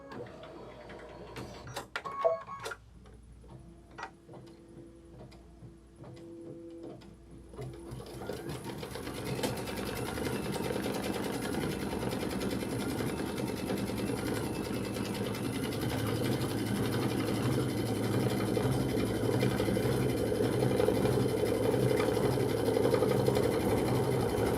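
A sewing machine quilting a Kimberbell jelly tote insert begins with a few clicks and knocks, then whirs into a continuous steady run that holds for the rest of the stretch, close and moderately loud.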